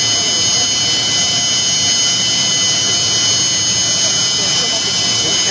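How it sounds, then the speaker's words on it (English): Airliner jet engine taxiing onto an airport ramp, a loud steady whine and roar with a high-pitched squeal running unbroken throughout. "comes and is grounded right on the ramp"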